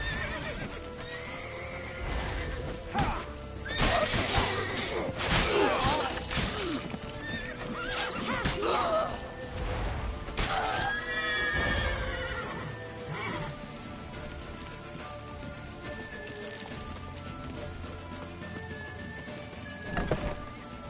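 Horses in the game Sekiro whinny loudly and shrilly several times among clattering hooves and crashing commotion, followed by quieter ambience with tonal music.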